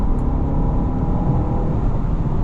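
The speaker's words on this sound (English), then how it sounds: "This twin-turbo V8 is raring to go, and in the sport drive mode, that's precisely what it does." A Bentley Flying Spur's twin-turbo V8 pulls hard in sport drive mode, giving a steady, full engine roar with no voices over it.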